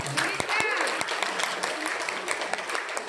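Brief, scattered clapping from a seminar audience at a medical lecture, light and uneven over a few seconds, mixed with faint murmuring voices.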